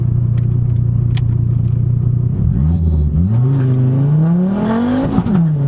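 A Volvo V70R revving hard in first gear, a loud close engine rumble that rises steadily in pitch as the revs build, then dips and climbs again, with tyre noise mixed in.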